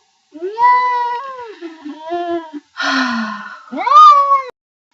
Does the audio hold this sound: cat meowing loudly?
yes